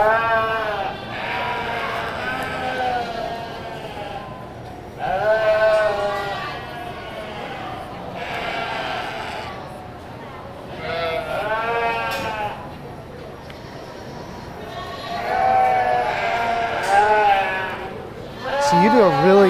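Sheep bleat repeatedly at a livestock fair show, loud wavering calls in several separate bursts, with a person talking between and over them in a large hall.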